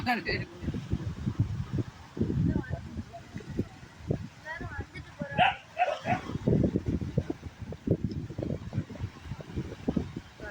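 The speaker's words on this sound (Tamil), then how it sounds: "நாய் ஃபைட்டிங்" Dogs fighting near a beach during a Tamil village festival, with loud repeated barks, yips and growls in dense bursts, mixed with people talking and a steady background hum.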